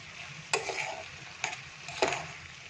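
Peanut powder is stirred into a cauliflower curry in a pan. Three distinct scraping strokes cut through a soft, continuous sizzle nearby, with no talking.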